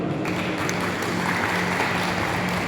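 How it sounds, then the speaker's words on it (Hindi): Audience applause at a community gathering, a steady dense wash of many hands clapping that continues evenly from start to finish. "यहाँ की टीम के लिए एक बार ताली जरूर बजाइए"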